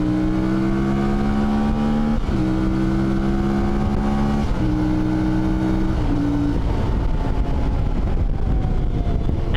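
Lightweight adventure motorcycle with a 270-degree crank parallel twin engine revving up through several gears, each rising pull cut by a short shift, close and loud without talk.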